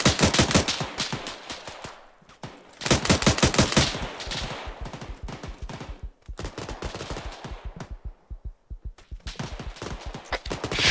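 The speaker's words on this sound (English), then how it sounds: "Suppressive fire." Suppressive automatic gunfire in ARMA 3 rattles in repeated loud bursts, long rapid strings of shots separated by short gaps and scattered single reports, some sharp and close, others thinner and more distant.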